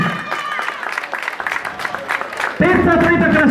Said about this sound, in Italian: un bel applauso anche per lei.